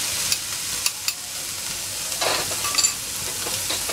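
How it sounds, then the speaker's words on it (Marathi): Grated ginger, garlic and onion are sautéed in a pan with curry leaves for a dried shrimp dish, a steady quiet sizzle with light, irregular spatula taps and scrapes close by, and nobody speaking. "सगळं व्यवस्थित आपल्याला परतून घ्यायचं आहे."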